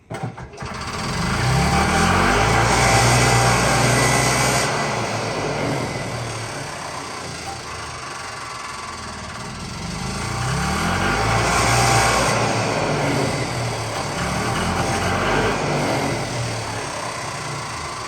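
An EZ-GO golf cart engine with the choke off is revved hard as if starting and pulling away, a loud, steady buzzing drone that surges twice and eases back, with no talk over it.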